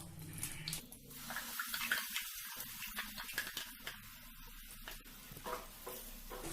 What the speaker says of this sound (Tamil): இப்போ நம்ம அரைச்சி வச்ச விழுதை அதில் போடுறோம்